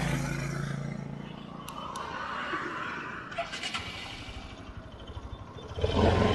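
A Pulsar RS200 motorcycle engine running on a test drive, a steady rough drone with wind-like rushing that swells into louder revving near the end.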